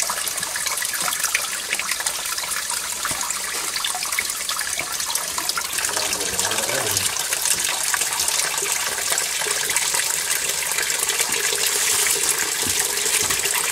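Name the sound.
water flushing out of a drain line with iron ochre clumps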